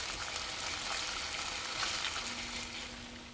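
Thick white sauce stirred in a pan, a continuous soft sizzling and bubbling hiss with faint scraping, steady throughout and fairly quiet, no talk.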